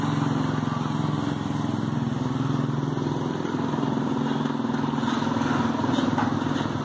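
A motorcycle engine runs on a town street under lockdown, a steady, fairly close drone that holds at even loudness for the whole stretch with no voices.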